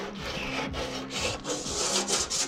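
Wood is sanded by hand in a steady back-and-forth rasping rhythm, close and continuous with no voices.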